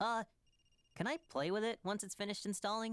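A telephone rings in a home with a faint, thin electronic tone that sits briefly behind a child's chatter, while voices talk loudly through most of the moment.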